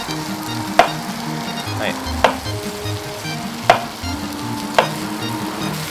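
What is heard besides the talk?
food frying and sizzling in pan in video game Cooking Simulator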